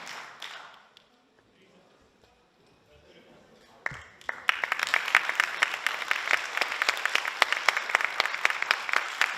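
An audience at a NABBA Lithuanian/Latvian Open 2020 bodybuilding show applauds men newcomers on stage for the first time. A quiet stretch with a voice gives way to sudden, sustained clapping that stays dense and lively.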